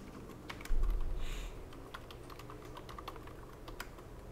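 Typing on a computer keyboard in a quiet room: a brief run of soft, close keystrokes, with a low thump at the start and then a few scattered taps.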